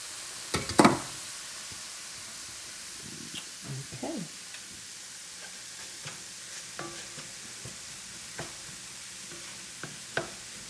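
Steady frying hiss from ground beef in a pan, with occasional pops and scraping stirs, continuous and fairly quiet, no voices.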